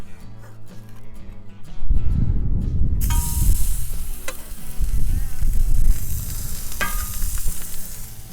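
Burgers sizzle on an Akorn Kamado grill, a loud, steady crackle and hiss up close that swells and dips as the patties cook, with a few sharp clicks and scrapes.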